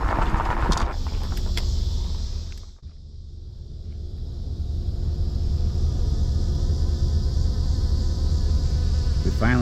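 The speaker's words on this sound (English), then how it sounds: "We finally found real bees." Bees buzz steadily around flowering plants in a Southeastern Louisiana spring, a close, continuous insect drone with a brief dip partway through, heard alone.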